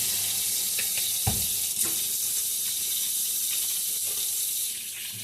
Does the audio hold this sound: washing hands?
yes